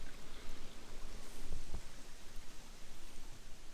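Creek water flows steadily along a forest service road in Shawnee National Forest, a soft broadband rush with a couple of brief knocks near the middle and no talking.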